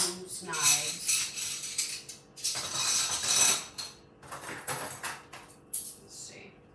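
Metal forks, spoons and knives clink and rattle as handfuls are dropped and sorted into a kitchen drawer, in bursts of jangling with short pauses between, close and fairly loud; a voice talks briefly between the clatters.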